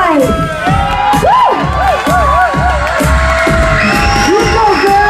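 A Halloween party crowd at a lounge cheers, shouts and whoops loudly and continuously, with excited voices rising over a thumping low beat.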